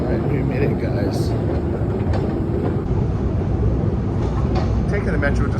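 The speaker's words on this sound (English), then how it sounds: "Taking the metro is just so much easier." Kyiv metro train riding along the track, a steady loud rumble with rattling and hiss filling the whole stretch, with faint voices in the carriage beneath the noise.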